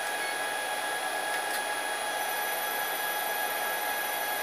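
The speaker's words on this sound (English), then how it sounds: "So we're going to command 250 RPM." A 6040 CNC router's upgraded spindle runs at a slow 250 RPM, giving a steady, even whir with a faint high whine and no change in pitch or level.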